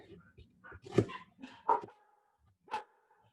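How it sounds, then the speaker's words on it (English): Dogs barking in short separate bursts from indoors near a home kitchen, several yips and barks spaced apart against a quiet background. "Dogs must have heard something."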